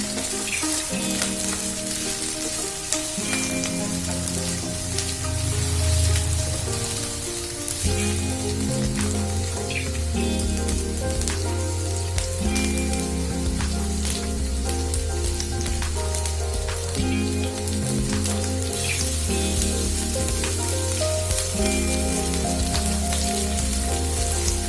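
Prawn malaikari ingredients fry steadily in a hot pan, a loud continuous sizzle with the scrape and clatter of stirring running through it, no voices.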